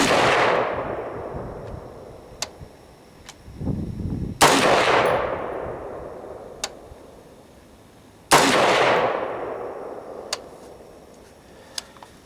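An AR-15 rifle fires single shots that crack sharply, each one followed by a long decaying rumble of echo. Faint clicks and taps fall between the shots, and no one speaks.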